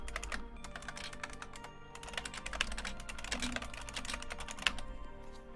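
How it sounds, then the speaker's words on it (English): Rapid, steady clicking of a computer keyboard being typed on nearby, quiet and continuous with brief pauses, alone with no talk. "I can hear that my keyboard is coming across nice and well"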